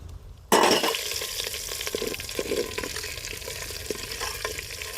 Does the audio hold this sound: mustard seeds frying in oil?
yes